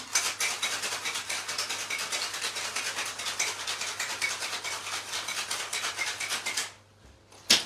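A cocktail with ice is shaken in a shaker, a quick, regular rattling of ice against metal that runs evenly for several seconds, then stops abruptly, followed by one faint knock.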